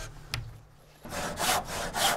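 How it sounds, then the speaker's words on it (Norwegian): Hand saw cutting through a wooden terrace decking board along a marked line, a single tap at the start and then steady back-and-forth rasping strokes close by, with no talking. "Sag så etter streken"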